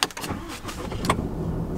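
A Ram HD diesel pickup truck cranks and catches in cool weather, a quick starter whir followed by a loud, close engine turning over into a rough idle, all within about two seconds.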